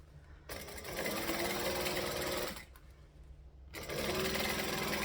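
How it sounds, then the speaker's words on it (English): Sewing machine top stitching fabric, running loud and near in two bursts separated by a short pause, a steady mechanical whir with no talk. "I'm just going to top stitch this down again"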